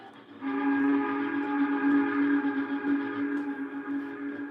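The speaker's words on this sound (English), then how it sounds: "Then he heard a whistle that was not familiar to him." A sustained train whistle sounds, a steady multi-toned chord holding for several seconds, loud and close with no talking over it.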